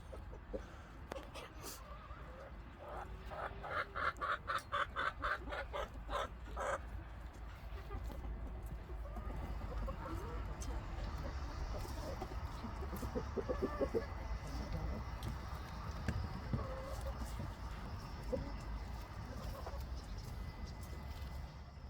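Hens cluck and chatter in a farm coop on a spring morning, a flock of overlapping calls with bursts of rapid clucking early on and softer murmuring later, while someone speaks briefly at times.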